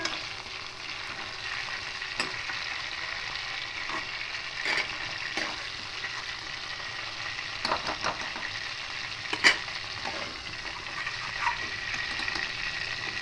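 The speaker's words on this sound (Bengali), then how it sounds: "এইভাবে খুব ভালো করে কড়া করে মাছগুলো ভেজে নেব" Katla fish heads fry crisply in hot oil in a pan, a constant bubbling sizzle with sharp spits and crackles popping out at irregular moments, close and unaccompanied by speech.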